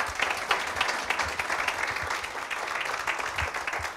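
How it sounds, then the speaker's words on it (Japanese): An audience at a talk on work-style reform breaks into dense, steady applause heard from within the hall, continuous and moderate in level throughout. "もう一度拍手をお願いできますでしょうか。"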